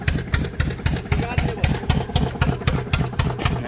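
An irrigation pump engine runs on a farm near Mecca in winter, chugging in a steady, fast pulsing rhythm close by, loud and continuous throughout.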